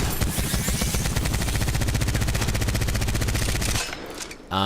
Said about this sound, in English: This one has a special perk though where it ramps up, so it starts at the slow fire rate, it gets quicker and quicker.